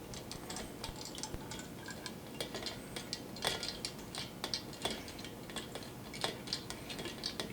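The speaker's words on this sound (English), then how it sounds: "Mix around with my wonderful little sampling tool here." A small sampling tool stirs fresh-pressed cider in a container, making quiet irregular clinks and taps against the vessel over a soft background, with no voices.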